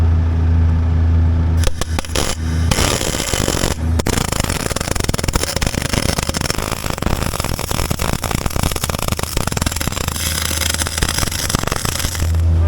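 Welding metal bars onto a forklift wheel hub, a loud, dense crackling and buzzing arc that starts after a short pause and runs steadily, close to the microphone, with no talk.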